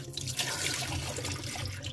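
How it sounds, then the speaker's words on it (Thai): Squid being rinsed under a running kitchen tap, a steady close splashing stream of water into a sink, continuous and alone without talk. "ใช้ วิธีนี้ล้างปลาหมึกนะคะ"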